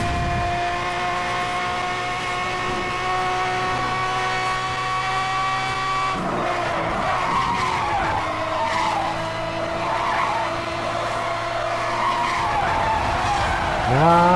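A car drifting in the racing game Need for Speed Hot Pursuit Remastered, with a sustained engine drone and long squealing tire skids that swell midway, loud and continuous.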